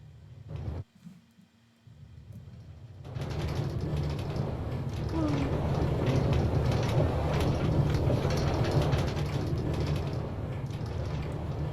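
A minecart train rolls along rail tracks in Minecraft, a steady mechanical clatter and rumble that starts after a brief quieter moment and then runs loud and continuous to the end.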